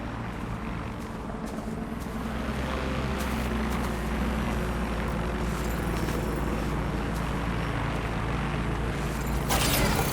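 A drone in the Watch Dogs Legion video game flies with a steady mechanical whir over a dense, constant wash of game background noise, holding at an even loudness throughout with a brief louder swell near the end.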